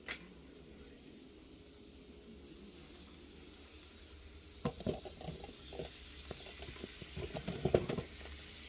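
Butter, onion and celery sizzle in a pan on the stove, faint at first, then a louder stretch of crackling and stirring clatter in the second half.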